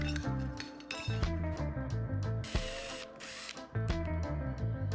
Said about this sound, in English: To hang the ornament, we need to drill a small hole for the wire.